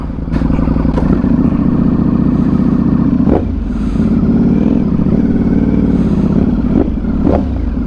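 A 2025 Ducati Panigale V4S with an Akrapovic exhaust rumbles loudly up close, its deep engine note steady with brief revving surges as the bike pulls away.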